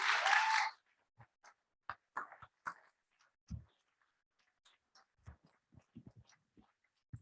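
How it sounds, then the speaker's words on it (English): A short burst of audience clapping at a board of education meeting stops after under a second, leaving a quiet room with scattered faint knocks and shuffles. "And a round of applause to Mr. Bauer, who put in a lot of hard work"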